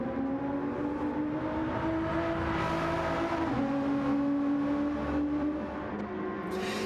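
A six-cylinder turbocharged car engine in Battlefield 6 revs steadily, its sustained tonal drone rising and falling in pitch over a continuous loud rumble, with no talking.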